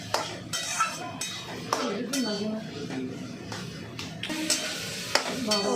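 Taro greens cooked with prawns are stirred in a pan, with repeated metallic clinks and scrapes of a utensil over a faint sizzle, while a voice speaks softly underneath.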